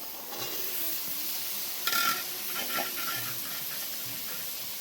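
Boiled chickpeas go into a frying pan of spices: a continuous hiss of hot oil with a brief, louder splash-and-sizzle burst partway through, moderately close, with no voices.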